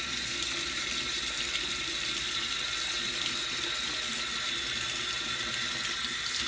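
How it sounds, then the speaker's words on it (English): A sink tap running with warm water for washing brushes, a steady, even hiss of flowing water close by, continuous and unchanging throughout with no talking. "turn on the water"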